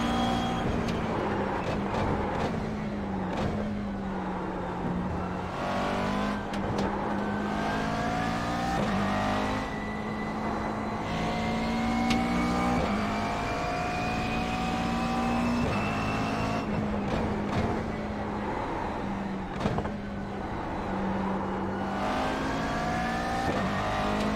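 A McLaren GT race car in iRacing at Imola, engine droning and rising in pitch through the gears with repeated upshifts and revving, loud and steady across the whole stretch.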